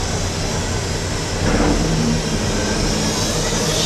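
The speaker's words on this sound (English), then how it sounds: "he's able to turn the engines on" Engines of a trencher machine run with a steady, dense roar that rises slightly in intensity about halfway through. The sound is loud and continuous with no talk.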